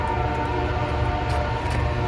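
Heavy, continuous rumble of a nearby train going by, metallic rolling noise with sustained tonal hum and occasional squeals.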